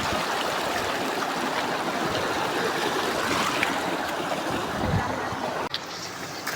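A river stream runs over stones on the plains in a steady, close rush of broadband water noise that continues throughout, with a brief dip near the end.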